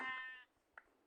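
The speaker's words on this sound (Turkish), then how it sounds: "Orada da bir koyun var." A sheep in the Minecraft video game gives one drawn-out bleat, clear and close, before it cuts off into near silence broken by a faint click.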